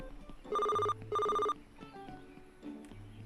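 A phone rings in a zombie delivery video game, sounding two long electronic trills back to back, loud and close. Game sounds follow quietly afterward.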